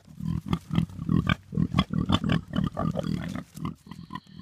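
Pigs in the woods make a run of close, loud grunts and snorts at a quick, uneven rhythm, with no talk over them.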